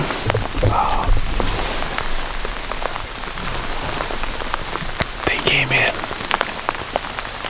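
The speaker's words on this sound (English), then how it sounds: "it started to rain, and it hasn't stopped" Steady rain falls on surfaces outdoors at a bear hunting site, a dense continuous patter of drops with a few louder nearby splats, and faint low voices in the background.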